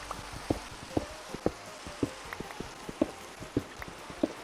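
Rain falls in Minecraft as a steady soft hiss dotted with regular, evenly spaced drip-like plinks, with no voices.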